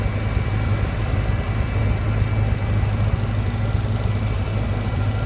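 A Ford 302 V8 fitted in a 1929 Ford Model A roadster pickup street rod idles steadily up close with a deep, even rumble and no talking.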